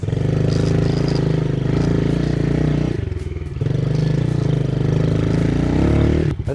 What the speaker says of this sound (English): We'll grab the bike and send a little section right now.